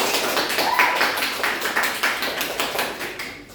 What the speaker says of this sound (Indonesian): ayo berikan tepuk tangan untuk diri kalian masing-masing